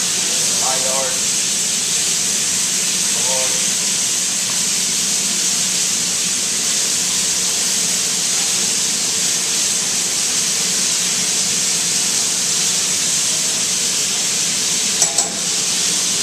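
Chicken pieces for a tagine sizzle loudly and continuously in a pan, a dense steady hiss with a few faint clinks and a short knock near the end.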